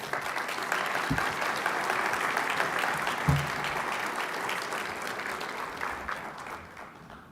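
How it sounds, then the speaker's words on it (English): An audience at a Palm Springs preservation awards program applauds in a dense, sustained round of clapping that holds steady and then thins out toward the end. "Can we give him one more round of applause?"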